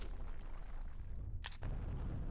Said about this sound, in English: the sound of the gunfire leaves a little bit to be desired